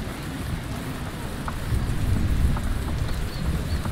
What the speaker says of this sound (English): The thunder effects in here are quite good.